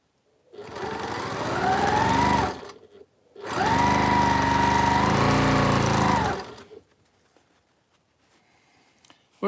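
A sewing machine named Bertha runs through seams in two long whirring bursts, a steady motor drone with a slight pitch rise at each start, separated by a short pause and followed by quiet.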